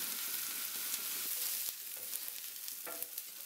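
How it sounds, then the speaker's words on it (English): Onions fry in oil in a pan for a curry puff filling, giving a steady, close sizzle with a few scattered pops and crackles throughout. "You start by frying the onions in a pan with some oil."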